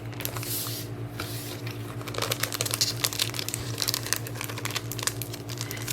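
Plastic packaging from a planner kit unboxing crinkles and crackles steadily as it is handled up close, over a constant low hum.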